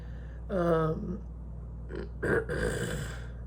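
A single throaty burp rumbles out, followed by a couple of short grunting, strained noises.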